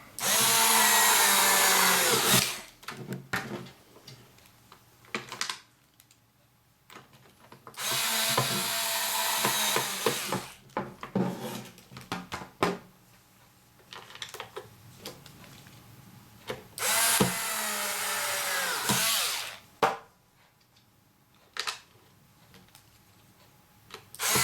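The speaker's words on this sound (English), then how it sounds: "whilst you're holding that in position, you can just put your screws back in" A power screwdriver drives screws back into a Bose SoundDock in three loud, close bursts of whirring motor a few seconds each, with small clicks and handling noises between them and no talking.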